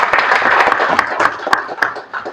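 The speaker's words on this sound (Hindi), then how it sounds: "अपने लिए एक बार जोरदार ताली बजाइए।" A seated audience at a journalism talk bursts into brisk, dense applause, many hands clapping at once in a loud, close, uneven patter that thins slightly toward the end.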